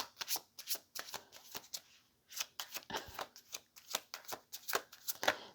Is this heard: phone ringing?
no